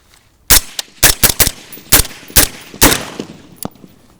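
A .22 rifle fitted with a B&T Tiger suppressor empties a full magazine in quick, slightly irregular shots, each a loud, close crack with a short decay, about ten in four seconds.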